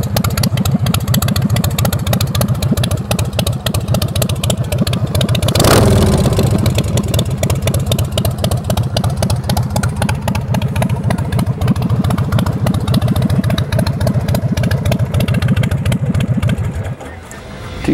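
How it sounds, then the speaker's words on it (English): An American Ironhorse Tejas motorcycle with a 107 S&S motor idles with a loping, uneven rhythm, loud and close, with a brief blip of throttle partway through before it settles and dips near the end. "Got a nice little lope to it. 107 S&S motor."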